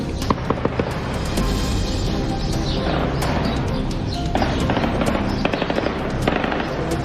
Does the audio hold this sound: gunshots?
yes